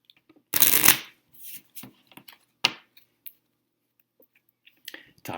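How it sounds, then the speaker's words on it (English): A deck of playing cards is shuffled: a quick burst of riffling followed by several short taps and soft squaring clicks, close and quiet, with no talking. "Shuffle it one more time for you."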